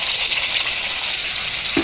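Tomato and cashew paste frying in a pan, a loud continuous hiss close by with a brief low knock right at the end, no voices.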